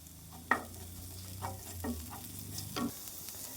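Winged beans stir-fry in a pan with crushed fennel, green chillies and garlic, giving a soft continuous sizzle broken by a few sharp scrapes and clatters of stirring.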